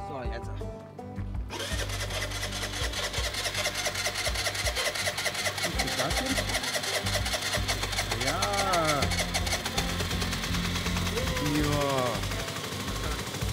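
A scooter's small engine is started after sitting through the winter, then runs in a loud, steady buzzing idle with revving, close by, while someone talks briefly over it.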